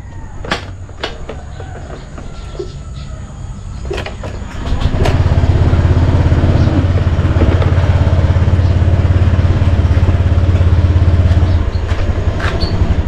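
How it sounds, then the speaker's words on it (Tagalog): A motorcycle engine starts after a few faint clicks and knocks, then settles into a steady, loud, low idle as it warms up, close by and with no talk over it. "start na po natin yung ating motor. Medyo painitin lang natin"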